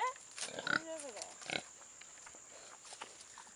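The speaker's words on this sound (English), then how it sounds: "Two spoiled pigs." Pigs grunt and squeal in a few short bursts while eating carrots, close by, followed by quieter chewing and snuffling noises.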